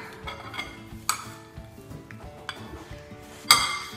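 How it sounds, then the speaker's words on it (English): Spoon scrapes and clinks in a bowl while fruit salad is stirred, a soft clattering run punctuated by a couple of sharper knocks, close by with no voices. "give it a good old stir"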